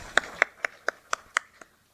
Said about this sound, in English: I welcome you all with a great round of applause